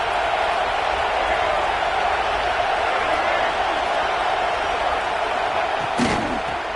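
A football stadium crowd at a Florida versus Ole Miss game roars in a steady loud wash of cheering, with a sharp thump near the end and commentary talking over it.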